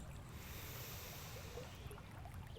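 Ocean waves wash continuously in a soft, broad roar, steady and moderately distant, with some wind rush and no voices.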